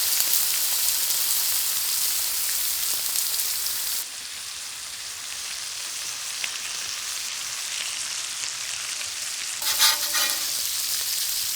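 Bacon frying on a Blackstone griddle makes a constant, close sizzle that dips slightly partway through, with a brief burst of clatter near the end.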